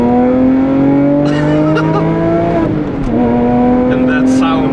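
A Porsche 996 Carrera with a modified 4.1-litre engine and manual gearbox revs hard on a drive through the Black Forest, the loud engine note climbing steadily, dipping briefly at a gear change, then rising again close to the microphone.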